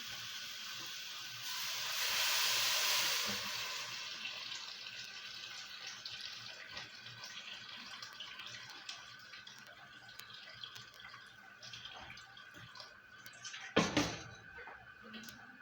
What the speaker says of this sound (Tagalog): Then, mainit na tubig.